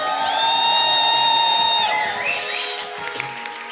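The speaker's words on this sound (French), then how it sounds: "Tu peux pousser des cris de joie." A church congregation at a Sunday worship service cheers and shouts for joy, with a sustained crowd roar, whoops and applause under a held electronic tone, fading slightly toward the end.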